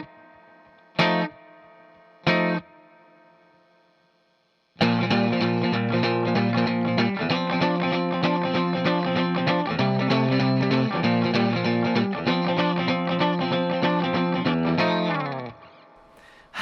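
Distorted electric guitar playing blues breaks: two sharp stabbed chords with pauses, then a loud steady rhythmic riff that rings out and stops cleanly.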